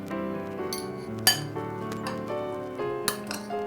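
Metal spoon clinking against a bowl while stirring red and yellow capsicum with Szechuan sauce and salt for a paneer topping, bright ringing clinks and scraping, loud and close, with two sharper strikes.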